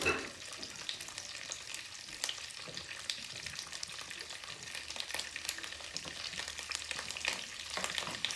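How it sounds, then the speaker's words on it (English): Butter and olive oil heat in a hot pan, giving off a continuous, even sizzle with faint crackles and an occasional light tap. No voice is heard. "pan is getting good and hot"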